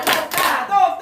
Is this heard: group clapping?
yes